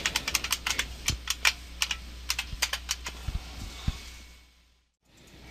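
Keys on a Windows 7 computer keyboard are typed in a quick, uneven burst of close clicks while entering a folder name, then stop and leave near silence.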